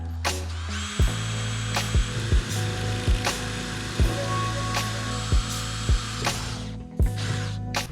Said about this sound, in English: I'm just gonna go ahead and drill this thing out